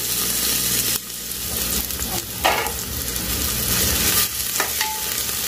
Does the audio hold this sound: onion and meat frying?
yes